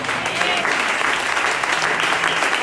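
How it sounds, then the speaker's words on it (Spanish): Church congregation applauding loudly during a Spanish-language worship service, a dense, steady wash of clapping that fills the whole moment. "Dale un fuerte aplauso al Señor."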